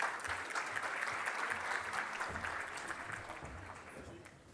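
An audience applauds at a Tunisia Digital Summit session, welcoming a speaker onto the stage. The clapping is dense and sustained throughout and gradually eases toward the end.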